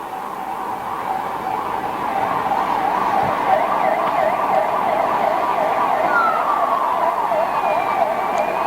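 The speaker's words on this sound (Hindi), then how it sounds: "एकीकृत रेफरल ट्रांसपोर्ट प्रणाली के अंतर्गत नवीन एम्बुलेंस वाहनों के संचालन का लोकार्पण हो रहा है" New ambulances blare their sirens at a launch ceremony, a loud, continuous warbling wail that pulses steadily throughout, with faint traffic-like rumble underneath.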